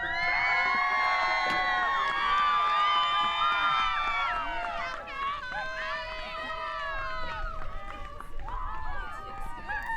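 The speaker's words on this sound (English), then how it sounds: "we see a huge crowd of supporters with signs and cheers gathered just behind the airport fence" A large crowd of supporters cheers and shouts from behind an airport fence, a continuous loud roar of mixed voices, whoops and children's cries that dips briefly midway before rising again.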